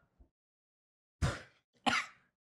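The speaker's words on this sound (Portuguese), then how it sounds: "Essa tossinha que não passa." Two dry, forceful coughs from a woman, close and loud, spaced about half a second apart after a tiny throat sound in otherwise silent surroundings.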